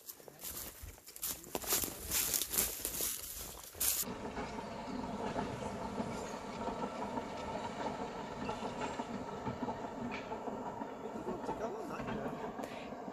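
A long train with many carriages runs past in the Welsh countryside, a steady rumbling clatter of wheels on track that carries on at moderate distance, preceded by a few seconds of rustling handling noise.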